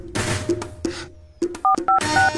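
A mobile phone keypad sounds a quick run of short electronic beeps as digits are entered to save a number, following a few soft taps and rustles.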